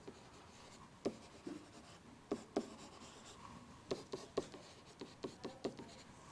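A pen or marker writes on a surface while graphing absolute value functions, producing short scratchy strokes in irregular bursts, quiet and close, with no speech.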